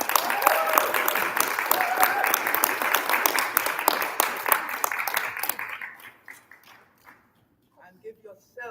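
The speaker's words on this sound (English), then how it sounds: "And give yourselves a round of applause." Audience applause fills a plenary hall at a peace conference, dense and steady clapping for about five seconds before thinning into scattered claps and fading, with faint voices near the end.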